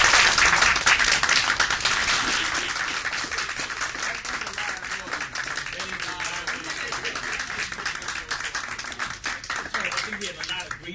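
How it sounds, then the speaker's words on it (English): An audience applauds guests at a live business after-hours event, a dense burst of clapping that starts loud and gradually thins out, with a voice talking over it. "We give them a round of applause for being here."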